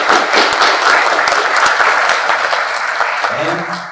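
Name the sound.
audience applause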